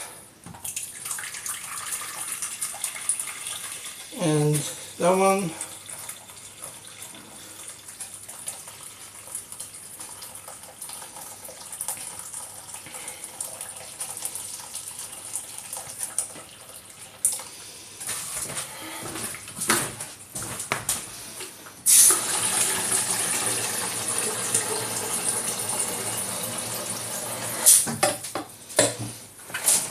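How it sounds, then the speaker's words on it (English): Water running from a kitchen tap into a pan, a steady close hiss and splash that grows fuller and louder later on, with faint clinks of cookware and a brief spoken remark. "let's start putting the water"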